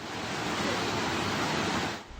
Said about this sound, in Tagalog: Rumagasa ang baha sa barangay poblasyon sa Carcar City, Cebu.